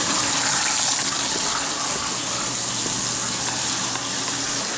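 Water sloshes and gushes steadily while a home aquarium holding largemouth bass and peacock bass is cleaned during a water change, a dense continuous wash of splashing close by with no talk.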